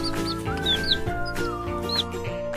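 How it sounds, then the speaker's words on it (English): Cartoon chicken clucking in a children's animal sound sequence, a few short squeaky high calls repeating over steady background music. "a baby chicken is a chick."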